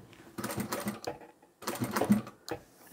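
A sewing machine back stitches through quilted bag fabric in two short bursts of rapid mechanical clatter, close and fairly quiet, separated by a brief pause.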